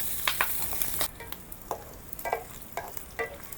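Ginger, garlic and onion sizzle steadily in hot oil as they are sautéed for laing, while a spatula stirs and scrapes the pan at intervals. The cooking is close and no one speaks.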